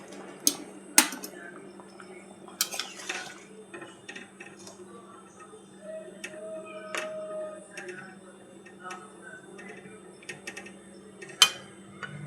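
A lid comes off a pot of potatoes boiling on a home stove, with metallic clanks and clinks of cookware, sharp knocks spread across the stretch over a faint steady hum.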